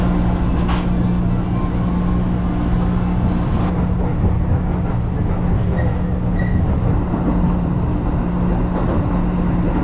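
Jakarta Metro subway carriage in motion, with a loud, constant low rumble and rolling rail noise filling the whole stretch, plus a few faint squeals and clicks.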